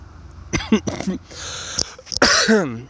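A few sharp coughs and throat-clearing bursts from a nearby person, mixed with short vocal sounds, loud and close.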